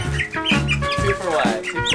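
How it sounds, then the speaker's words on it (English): Several young pullet hens cluck and squawk close by in quick, agitated bursts. "so let's get these pullets."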